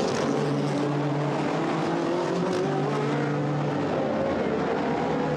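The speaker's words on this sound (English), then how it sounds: "As easy and as gracefully as we're watching the lead Mercedes complete lap upon lap, be it Buch, Goetz or Schneider" Mercedes GT race car at the 2013 Nurburgring 1000 km endurance race, its engine droning loud and steady as it passes, a sustained broadband roar with shifting tones.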